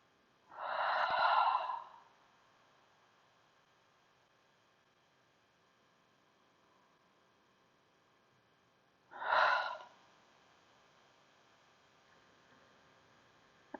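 Two slow, breathy exhales through the nose and mouth during a hip-focused yoga practice, sighing audibly, one at the start and another about eight seconds later, close and soft against a quiet room.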